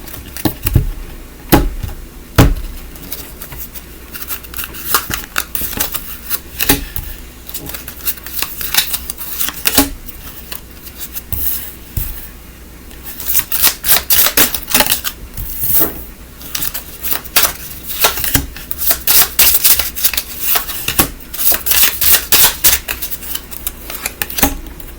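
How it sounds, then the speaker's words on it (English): Tarot cards being shuffled by hand in irregular bursts of crisp riffling and tapping over about 25 seconds, with short pauses between handfuls and no talking. "I'm going to shuffle again because now that we have our inner square"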